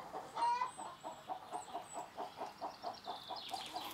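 Chickens clucking close by in Germany's North Rhine-Westphalia, a steady series of short, rhythmic clucks with a few higher squawks and faint background noise.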